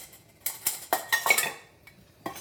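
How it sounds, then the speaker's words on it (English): A whisk scrapes and clinks against a pot while mixing sugar and cocoa for no-bake cookies. There are several quick metallic taps and swishes in an uneven rhythm, close and fairly clear. "Give it a quick little whisk."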